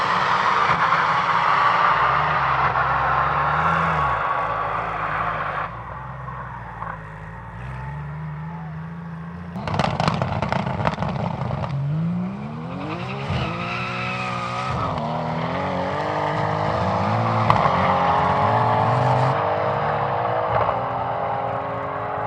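Drag racing cars run at Cootamundra, with engines droning loud and steady before a burst of sharp crackles, then rising revs and a long fading pass down the track.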